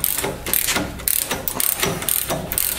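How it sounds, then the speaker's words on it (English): Ratchet clicks rapidly as it cranks down a ball joint press, forcing an upper ball joint on a 2002 GMC 2500 HD 4x4 into its cup; steady, close, repeated metallic ratcheting strokes with no talk. "Crank it down with the ratchet here."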